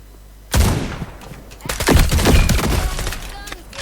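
Gunfire in the FPS video game FragPunk: a loud burst of shots, then a longer stretch of rapid automatic fire with a voice talking over it.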